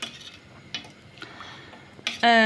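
Dishes gathered and stacked in a home kitchen while an iftar meal for guests is prepared: a few sparse clinks and knocks of crockery, then a louder clatter and a short sustained tonal ring at the end.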